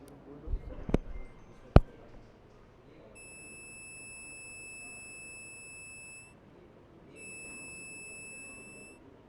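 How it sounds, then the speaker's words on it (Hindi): The buzzer of a driver drowsiness alert glasses model built for a school science exhibition sounds two sustained high electronic tones, the second after a short pause, over crowd murmur in an exhibition hall. "ये उसको डिटेक्ट करके बज़र को ऑपरेट कर देगा, जिससे बज़र साउंड क्रिएट करेगा"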